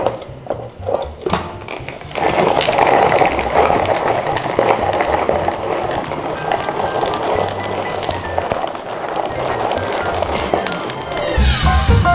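A blender starts after a few clicks and whirs loudly and steadily for several seconds blending tomatoes, then winds down near the end.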